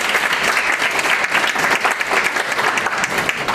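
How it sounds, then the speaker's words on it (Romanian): An audience at a business talk applauds a speaker invited to present on digital marketing, with dense, sustained clapping from many hands, close and even in level throughout. "Aplauze."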